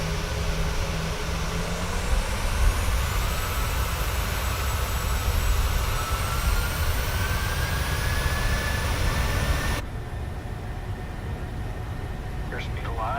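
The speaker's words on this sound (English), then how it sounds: "Set takeoff thrust. Thrust set." Boeing 737-800 jet engines in Microsoft Flight Simulator 2020 roar at takeoff thrust on the runway, a loud steady broadband rumble with a rising whine, easing slightly near the end; voices talk over it.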